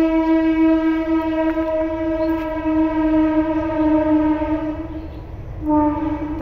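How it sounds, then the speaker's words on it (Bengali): A train passes a rural Bengali village, its horn blaring in a loud, sustained, steady tone over rumbling wheels, close by, with a short break before the horn sounds again. "ট্রেন যাচ্ছে"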